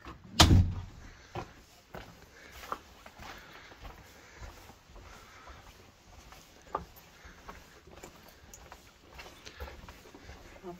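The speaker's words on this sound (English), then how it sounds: "this is just begging to have its door opened" A door is opened in an abandoned hotel with one loud, sharp knock or bang near the start. Quiet room tone, scattered faint creaks and shuffling movement follow.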